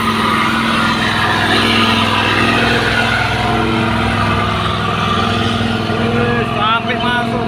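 Heavy Fuso trailer trucks rumble and jostle on a busy road, their loud, steady engine drone filling the air continuously, with a voice talking over the traffic throughout.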